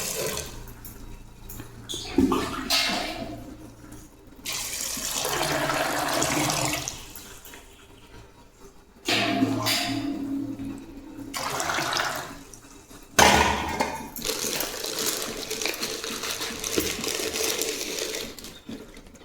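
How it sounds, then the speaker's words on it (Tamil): Water is poured and splashed into a cooking pot in long, loud rushing bursts that break off and restart, with no talk over it. "கொஞ்சம் தண்ணி ஊற்றி உப்பு போட்டுக்கலாம்"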